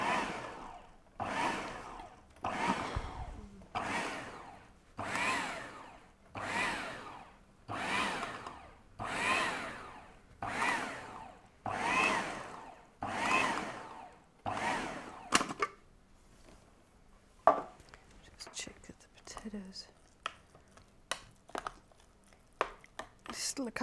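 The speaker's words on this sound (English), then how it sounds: "And what that does is pulsing stops you over processing food." A food processor pulses potato and spinach in about a dozen short, even bursts of whirring blade noise, each rising and cutting off, followed by quieter clatter and handling.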